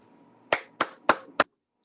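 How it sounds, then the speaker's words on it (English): Four slow, evenly spaced claps from a few meeting participants, polite golf-style clapping, sharp and close in an otherwise quiet room, ending abruptly. "see a lot of golf clapping"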